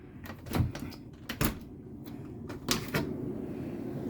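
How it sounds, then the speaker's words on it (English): A snow-covered screen door is pushed open during a blizzard, giving a few sharp knocks and rattles of the frame over a steady rush of wind and snow noise. "Let me open the door."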